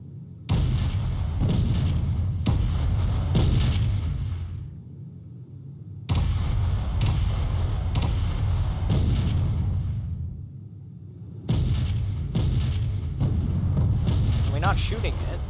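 Heavy weapon fire from a spaceship in Space Engineers, with loud booming shots in quick bursts of three or four, each trailing off into a rumbling decay, separated by brief lulls and repeating several times.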